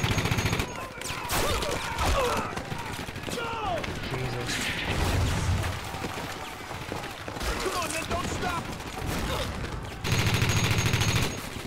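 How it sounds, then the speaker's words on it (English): Rapid, sustained MG42 machine gun fire in the World War II strategy game Company of Heroes, dense bursts of shots crackling through a busy battlefield mix with explosions and crashes, while voices talk over the din. "Don't stop, you got an MG42 cutting you in half."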